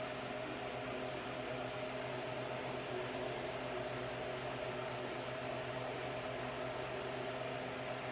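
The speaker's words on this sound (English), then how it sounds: "Got my exhaust fan on" A kitchen exhaust fan runs over the stove with a steady, unbroken whir and hum, holding an even level throughout with no talking.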